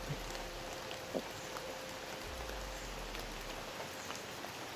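Steady rain falls continuously, a dense even hiss with a low rumble underneath and a few faint scattered taps; no voices.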